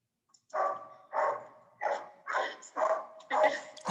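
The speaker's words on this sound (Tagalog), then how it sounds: "Pinapatigil mo na yung aso." A dog barks repeatedly in a steady series of six hoarse woofs, fairly close and moderately loud, during a home-based online session.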